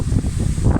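Strong, cold outdoor wind buffets the microphone, giving a loud, close, continuous low rumble with gusty swells and no voices.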